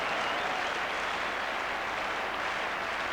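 Football crowd at a Spurs versus Newcastle United match applauding a pass, a dense, steady roar of clapping that fills the whole stretch with no break.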